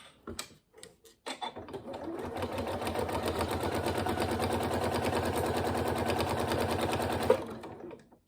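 A sewing machine stitches lines on a zipped pencil case, a fast, even mechanical chatter of the needle running steadily for several seconds after a few soft handling clicks, then stopping.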